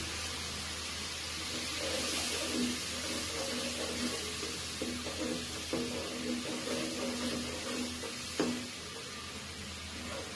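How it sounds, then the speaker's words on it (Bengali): A cup of water pours into a hot pan of spiced egg curry masala with chilli and coriander powder: a steady rushing stream with light sizzling underneath and a few small clinks, close up and without talk. "এখন পানি দিয়ে দিব 1 কাপ পরিমাণ"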